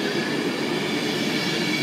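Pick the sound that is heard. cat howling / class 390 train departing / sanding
class 390 train departing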